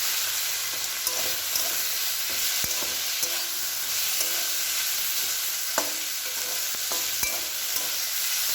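Greens and small potatoes fry in a little oil with a steady crackling sizzle, broken by sharp clicks and scrapes of a spatula stirring the pan, close and continuous.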